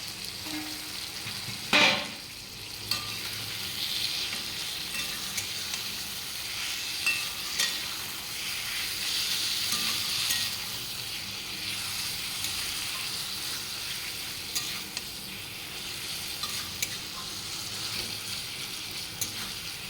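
Marinated chicken gizzards dropped into a long-cooked spiced masala and stirred, giving a steady, close, hissing sizzle with a sharp clatter early on and small scraping bumps as they are moved around the pan.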